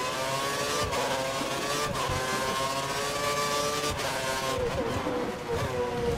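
Race car engine in the F1 2013 game running steadily under load with a fault, a continuous loud high whine with slight pitch shifts, alone with no talk.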